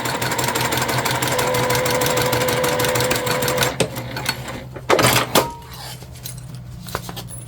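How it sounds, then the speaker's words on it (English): A sewing machine runs a fast continuous stitch down a convertible bag for several seconds, then stops, followed by a few clicks and handling knocks. "we're just going to stitch straight down"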